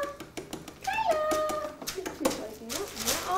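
Young puppies in a litter cry and squeal with high, wavering yelps, several overlapping calls close by over a few seconds, with a person speaking faintly at times.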